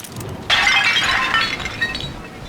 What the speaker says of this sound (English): This, I think, is a porcelain tea service in the style of Louis XV.